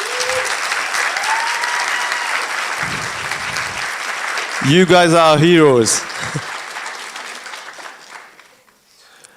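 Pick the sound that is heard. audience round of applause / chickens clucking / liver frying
audience round of applause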